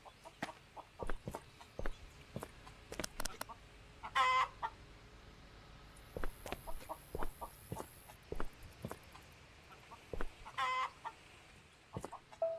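Chickens clucking in the video game Contraband Police, a rooster among them, with repeated short clucks and squawks scattered irregularly over a faint background and two brief louder calls standing out.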